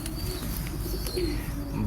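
A Pari Packer pigeon coos softly in a loft, low murmuring calls repeating against a faint background with no talking.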